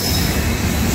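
A goods train rolling past a railway level crossing, a continuous loud, close rumble of wagons with metallic wheel squeal throughout.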